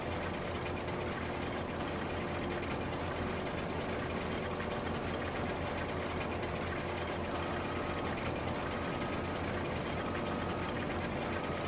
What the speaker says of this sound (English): Combine's a little louder than the tractors I've been in.